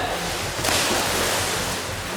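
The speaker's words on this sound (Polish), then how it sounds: "są fale." Broad, steady wash of water waves in an indoor swimming pool, a continuous rushing noise that swells slightly partway through, with no voices.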